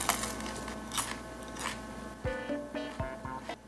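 Someone biting into crunchy homemade oven-baked potato chips made from mashed potato, several crisp close-up crunches spaced apart after a quieter stretch.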